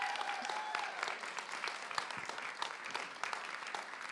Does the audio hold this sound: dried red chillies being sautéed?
no